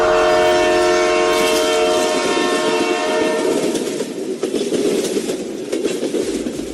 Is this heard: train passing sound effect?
yes